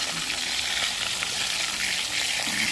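Mackerel fried in oil without batter gives a steady, close, hissing sizzle with fine crackles that runs unbroken and fairly loud for the whole short stretch.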